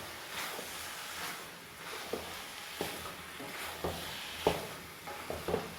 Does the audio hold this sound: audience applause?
no